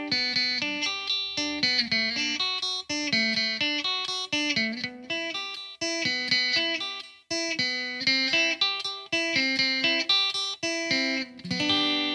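Electric guitar picking arpeggios with an effects unit, light distortion and reverb, a steady run of bright ringing notes broken by short pauses, played alone without talk.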